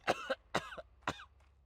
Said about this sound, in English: They start coughing, they start sneezing, they start hacking up a lung when they are sick with the disease